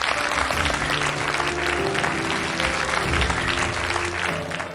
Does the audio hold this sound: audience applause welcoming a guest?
yes